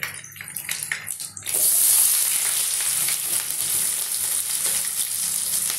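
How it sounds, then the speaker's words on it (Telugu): Green chillies and onions drop into hot oil with crushed garlic, setting off a loud, steady sizzle and crackle after some quieter handling sounds at the start. "దీనిలో ఇప్పుడు పచ్చిమిర్చి ఆనియన్స్ వేసుకున్నామండి"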